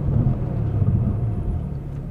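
A 2021 Ferrari Roma braking hard, heard as a steady, loud low rumble of road and drivetrain noise from inside the car, with no voices.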